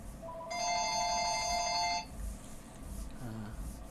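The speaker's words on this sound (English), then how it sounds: "There's my phone." A mobile phone ringtone plays a bright repeating melody for about a second and a half at moderate volume, then stops, followed by a faint voice.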